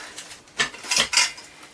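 Pudding basin set down on a steaming plate inside a pan, a few light clinks and knocks of crockery on metal, close and fairly quiet with no talking.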